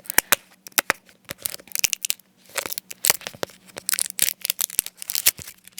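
Plastic wrapping is torn and peeled off a Crayola Silly Scents dough container in close, crisp crinkling and ripping bursts, with irregular sharp snaps throughout.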